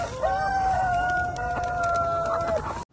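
A rooster among free-range, cage-free chickens on a farm in Kissimmee, Florida, gives one loud, close crow that stretches for about two and a half seconds, with no voices over it.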